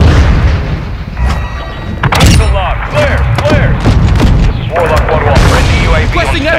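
Heavy booms and gunfire from a Modern Warfare 2 multiplayer hardpoint match, loud and continuous, with rumbling blasts layered over game callouts and a player talking.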